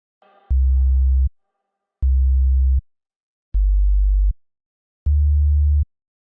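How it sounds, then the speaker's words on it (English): Heavy synthesized bass in a music production: four deep, loud, sustained low notes evenly spaced with short silences between, after a brief higher burst at the start. "Make your bass sound heavy like this."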